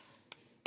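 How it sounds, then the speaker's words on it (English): A single short, loud cough bursts out abruptly near the end after near silence, preceded only by a tiny faint click. "Excuse me for my cough."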